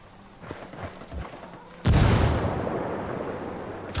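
A grenade blast in the video game Ghost Recon Wildlands, a sudden loud boom midway that rolls into a long crackling rumble, after scattered distant gunfire.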